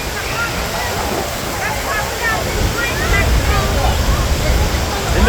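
Steady roaring rush of water at Niagara Falls, a broad continuous wash close by with wind buffeting, as voices chatter faintly over it.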